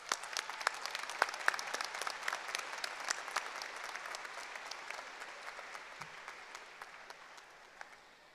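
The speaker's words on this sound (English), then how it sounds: "Let's give her another round of applause." An audience at a 2023 IUP graduate commencement ceremony claps in sustained, even applause that fills the hall and slowly fades toward the end.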